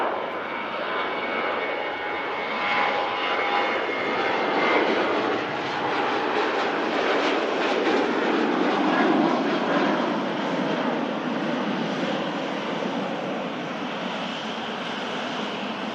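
A 12-year-old SunExpress airliner arriving from Antalya at Manchester Airport gives a loud, steady, close jet-engine roar that holds for the whole stretch, with no voices.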